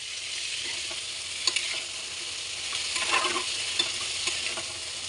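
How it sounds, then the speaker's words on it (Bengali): Raw tomato with salt frying in a pan makes an even, hissing sizzle with faint crackles and a few light stirring taps, close and steady, without any talking. "তার মধ্যে আমি এই যে কাঁচা টমেটোটা দিয়ে দিলাম একটা পাকা টমেটো আছে নুন দিয়ে দিচ্ছি"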